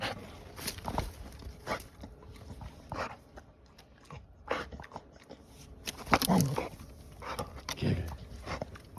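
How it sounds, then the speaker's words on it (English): A working dog doing a run-in moves and pants close by, with bursts of breathing, shuffling and scuffing steps, and a few louder thumps or bites near the end. "This is the working dog."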